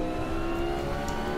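Race car engine in a sim racing game, a steady high revving drone with a whirring, buzzy tone held at constant pitch, moderately loud and unbroken for its short length.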